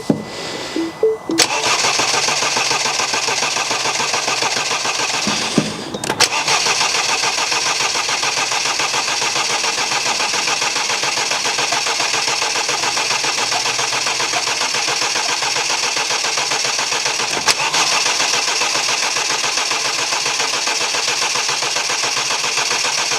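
A rebuilt Mini Cooper S engine cranks briefly, catches and starts, then settles into a steady, loud, close idle that runs unbroken to the end.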